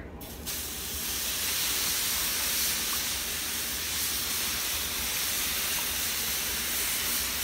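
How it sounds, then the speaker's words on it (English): Elk street taco meat, marinated with orange juice, cilantro, jalapenos, cumin, oregano and garlic, sizzles steadily on a Blackstone griddle, a loud continuous hiss and crackle that starts right away and holds alone throughout. "we're going to throw her on the grill here"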